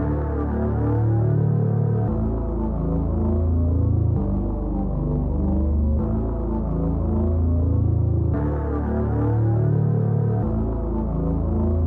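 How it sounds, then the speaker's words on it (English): A deep sustained sub bass one-shot playing a repeating pattern of long low notes in an 80s synth-pop beat made in FL Studio, steady and loud, with no other sounds. "for the sub bass, I used the sub bass out of a one-shot kit that I have"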